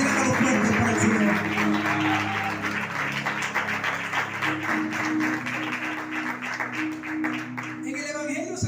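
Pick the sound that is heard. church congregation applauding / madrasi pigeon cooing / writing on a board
church congregation applauding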